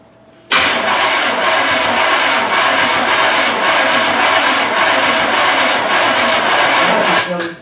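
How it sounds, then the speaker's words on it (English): A Turbo Trans Am engine cranks over and catches abruptly, then holds a loud, close, rough running note with slight pulsing. It cuts off near the end, and no one speaks. "just go ahead and crank it"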